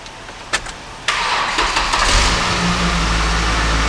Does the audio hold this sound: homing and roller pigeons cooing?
no